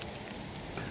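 Rain falls steadily, making a dense, even hiss of drops on a surface with no voices over it.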